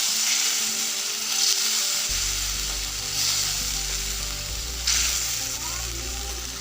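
Vegetables and mixed spices sizzle loudly in a pan for an egg curry, a dense continuous frying hiss that swells when more goes in, with a few brief stirring scrapes, close and steady.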